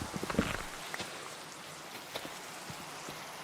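Rain pattering steadily in the Minecraft VR game, a dense hiss with scattered louder drops early on, fairly loud and continuous with no speech over it.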